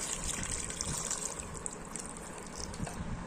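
Tamarind water poured into a spice mixture for a village-style dried fish dish, giving a steady splashing, trickling gush that runs without a break at moderate level.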